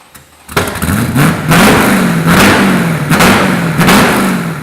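A loud V8 hot rod engine starts up and revs repeatedly, its pitch rising and falling in several aggressive bursts with a deep, rumbling exhaust tone.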